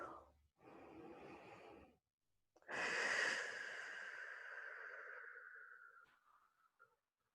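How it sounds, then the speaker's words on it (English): Two slow, deep breaths heard close up: a soft inhale, then after a pause a longer, fuller inhalation trailing into a gentle, airy exhale, quiet and alone without speech. "just take a couple of more nice, deep cleansing breaths"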